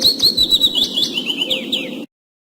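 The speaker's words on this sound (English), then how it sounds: "Bird." Bird chirping in a quick run of bright, repeated tweets and short whistled notes, loud and close, over a dense low background, stopping abruptly before the end.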